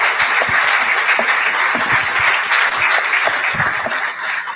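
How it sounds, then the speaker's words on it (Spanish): An audience at a business talk applauds steadily, loud and sustained clapping for several seconds with no speech over it. "Un fuerte aplauso, por favor."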